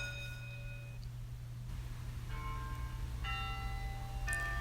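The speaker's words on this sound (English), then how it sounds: "and the morning bell." A school morning bell rings faintly in a few separate strikes, each ringing out over a steady low hum.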